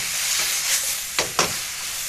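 Capsicum, bok choy, spinach, bean sprouts and spring onion stir-frying with char siu pork in a hot pan, a steady loud sizzle with two sharp tossing bursts near the end.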